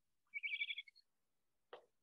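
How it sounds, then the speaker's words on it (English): A captive, habituated great horned owl gives an unusual call instead of its typical hoot: a short run of rapid, high chattering notes, then a single brief raspy burst after a pause, close and fairly quiet. "That's not the typical noise you hear with a great horned owl."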